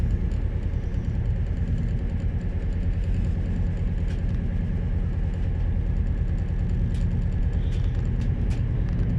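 A passenger train pulls into Bangor station on the coastal line from Prestatyn to Holyhead, heard from on board as a steady, loud low engine rumble and hum that runs without a break, with faint clicks and rattles on top.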